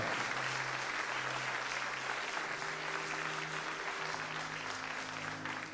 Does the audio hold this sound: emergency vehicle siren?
no